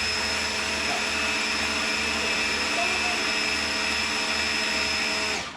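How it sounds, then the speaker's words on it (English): A food processor whirs steadily as it blends frozen raspberries, a loud, continuous motor drone that holds for several seconds and then cuts off at the end. "You just keep them frozen, and then you throw them right into the food processor."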